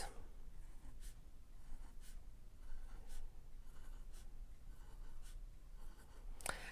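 Pen or pencil scratching music notes onto paper, drawing an E flat major scale in alto clef: a run of soft, close scratchy strokes over a steady low room hum, ending in a sharper stroke.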